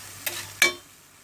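Popcorn kernels are stirred with oil and salt in a pot: two short scraping, rattling strokes, the second louder, over a faint sizzle.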